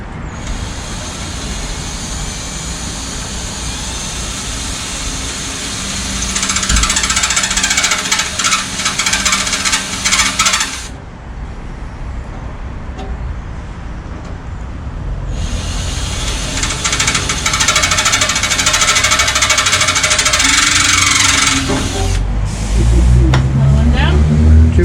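An angle grinder cuts into metal on a water tank, lubricated with WD spray, in two long loud bursts of harsh, high grinding separated by a pause, with people talking nearby.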